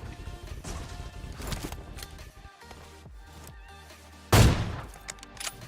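Gunfire in the mobile battle-royale game PUBG Mobile, a solo-versus-squad match with an AWM sniper rifle, scattered shots through the first seconds, then one loud sharp report near the end like a headshot.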